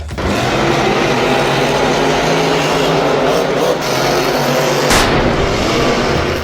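Monster trucks Megalodon and Bigfoot race side by side, a dense, loud, sustained engine roar over the full stretch, with a sharp burst near the end.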